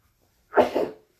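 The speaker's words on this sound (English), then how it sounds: "Excuse me, I have to sneeze." A single close, loud sneeze in two quick bursts, a sharp intake followed by the explosive release, alone against quiet.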